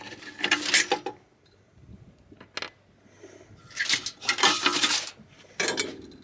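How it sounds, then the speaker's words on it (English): Metal screw being loosened and withdrawn from the burner of a Weber Q1000 gas grill, with several separate bursts of scraping, clicking metal handling, close and fairly loud, separated by brief quiet pauses. "Now I get to take the burner out of here."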